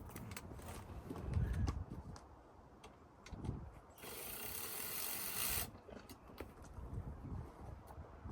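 A ratchet loosens the 10 mm nut on a car battery's negative terminal. Close, dry clicking bursts come in short groups, with a longer, steady rasping run in the middle.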